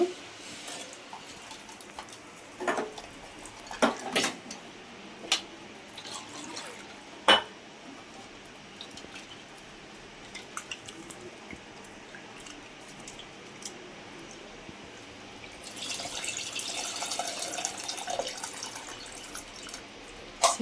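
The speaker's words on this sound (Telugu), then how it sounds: "మనకి ఎంత వాటర్ కావాలో అంత వేసుకున్నామండి" Scattered clinks and drips at first, then water pours steadily into a clay pot for fish curry for several seconds near the end; quiet background otherwise.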